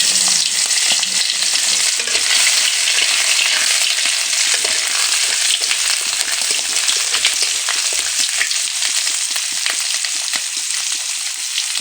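Crushed onions and whole cumin seeds hit hot oil in a pan, producing loud, continuous sizzling and crackling with occasional stirring scrapes, close and steady throughout.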